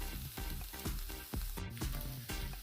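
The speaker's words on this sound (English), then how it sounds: "so now I just have to stir it around" A vegan veggie scramble with lentil seitan being stirred in a frying pan, a rhythmic scraping of the spatula over a continuous close, loud sizzle.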